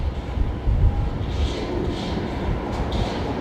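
An Airbus A320neo airliner taxiing at Brisbane Airport produces a continuous low engine rumble and roar with faint higher whine, steady and moderately loud.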